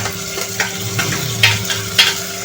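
Finely chopped tomato goes into browned onions frying in a pan and gets stirred, with soft sizzling under several spoon scrapes and knocks against the pan; nobody talks.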